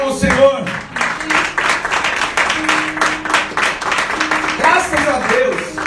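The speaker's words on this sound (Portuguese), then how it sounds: "Pode dar uma salva de palmas ao Senhor" A church congregation claps during a sermon, a mix of many hands with a voice and other sounds running through it, moderately loud and close.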